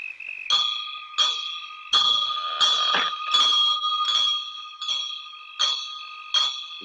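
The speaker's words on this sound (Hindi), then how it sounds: "तुम दोनों घंटी बजाते रहना।" A bell is struck repeatedly, about nine bright metallic clangs at a steady pace, each ringing out briefly before the next, with no voices.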